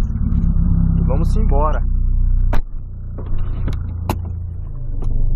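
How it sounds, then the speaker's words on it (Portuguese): A 2008 Volkswagen Polo's engine is running, a loud, steady low rumble close by, with a few sharp clicks and thumps mid-way as it settles into an idle, while someone talks over it. "Vamos dar a partidona aqui no carro."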